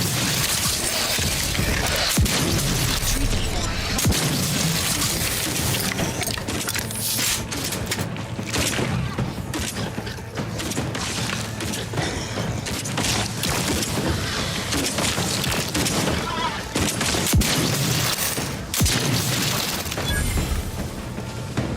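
Shotgun blasts and combat clatter from the Outer Worlds 2 video game, a dense, loud stretch of booming shots and mechanical clanks running continuously without pauses.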